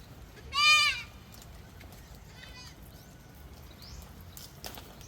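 One loud, quavering goat bleat up close, followed by a fainter bleat and light rustling in a quiet outdoor setting as goats eat fodder.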